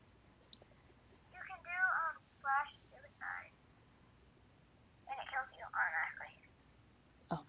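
Phone text message notification chimes, a short run of bright electronic tones followed by a second burst a few seconds later, fairly faint with quiet background noise.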